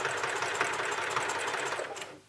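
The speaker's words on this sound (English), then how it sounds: "we're just going to sew across it just to get it in place" A sewing machine runs steadily, stitching straight across a bag strap to hold it in place, a close, continuous mechanical whir that stops near the end.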